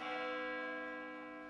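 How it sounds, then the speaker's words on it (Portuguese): A single deep, rich church bell stroke marking midnight, ringing out and slowly decaying with a long humming resonance, heard alone and fairly faint. "A primeira badalada da meia-noite soou."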